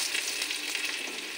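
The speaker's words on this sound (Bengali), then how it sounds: "আমার পটল আর কারকল ভাজা হয়ে গেছে।" Slices of pointed gourd and bitter gourd sizzle in hot oil in a pan, a steady soft crackle heard close and alone, with no voices.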